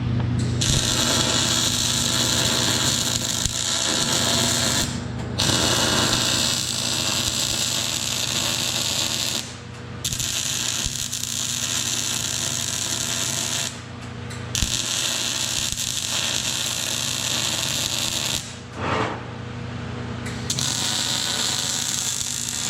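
Electric welding on a steel trolley frame for a 75 to 250 lb trolley: a steady, loud, buzzing hum with a mains-like drone, running in long continuous beads broken by short pauses, with no voices.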